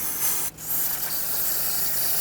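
A steady, close hiss of spray rinsing brake fluid off a brake hose fitting on a 2006-2010 Hyundai Sonata, with one brief break early on.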